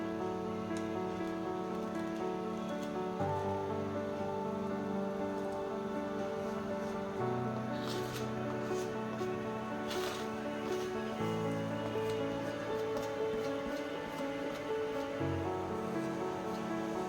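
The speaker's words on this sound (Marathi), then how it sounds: "पाण्याला छान उकळी आलेली आहे" A pot of water with chilli powder, salt, asafoetida and papad khar at a steady rolling boil on the stove, giving a continuous rain-like bubbling hiss with no break.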